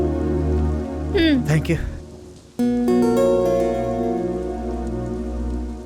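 Steady rain falls through the scene, a continuous hiss beneath music with a short spoken phrase over it.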